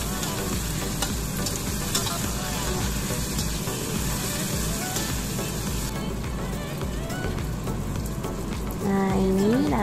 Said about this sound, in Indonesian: Lalu kita tambahkan cabe, daun salam sama daun jeruknya, kita masukkan, kita tumis jadi 1.